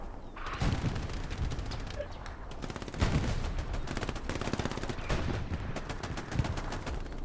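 Rapid crossfire in the World War II shooter Hell Let Loose, with dense bursts of automatic gunfire and single shots crackling continuously, some loud and close, others more distant.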